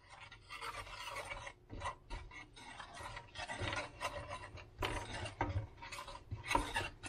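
Keto condensed milk mixture being whisked, a quiet steady rasping and scraping in rhythmic strokes, close by with no talking.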